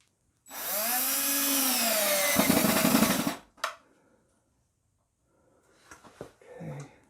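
A power drill with a 1/4 inch hex adapter drives a hex-head screw into salvaged wood, a loud whirring burst of about three seconds followed by a short clunk and faint handling noises.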